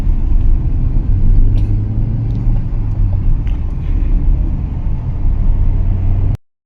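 A car rolls along an Agra–Lucknow expressway in Uttar Pradesh, its steady low engine and road rumble filling the cabin at close range, continuous and fairly loud with no talk, ending abruptly.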